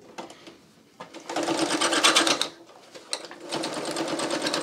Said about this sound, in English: It was just sewing over those two different fabrics